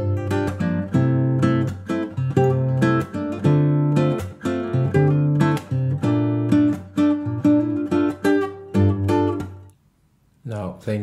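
Acoustic guitar playing the main motif of a song, a close, clear run of plucked notes over a sustained low bass tone, with a brief pause near the end before notes resume.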